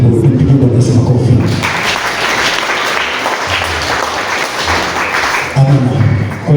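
A church congregation claps during a thanksgiving service, producing a steady, dense wash of applause that lasts throughout, with voices rising briefly at the start and end.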